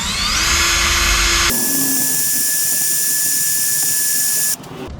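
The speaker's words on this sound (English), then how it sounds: "Then what you want to do is chuck it up in a drill. And then you're just gonna plunge it right in there." A handheld drill spins a Q-tip inside the brass bore of a CX500 motorcycle carburetor. It gives a loud, high whine that shifts pitch as the swab plunges in, runs steady for a few seconds, then stops abruptly.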